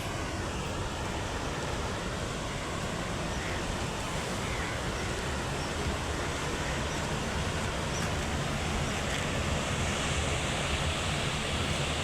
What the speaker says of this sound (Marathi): हे पहा किती इथं हे चाललंय पाणी